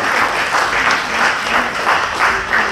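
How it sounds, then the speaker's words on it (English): Loud audience applause, a dense crowd of clapping hands that swells and eases in a gentle rhythm and carries on steadily with no voices over it. "Ladies and gentlemen, a bigger round of applause for Dr. Harold Gunadilaka, please."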